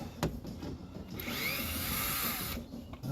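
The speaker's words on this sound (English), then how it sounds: "So I've got my trusty Hitachi here. Let's loosen the ones on the bottom first." A Hitachi power drill loosens screws on a 2009 Ford Escape front door panel, whirring in a short burst of about a second and a half after a brief tap, close and loud.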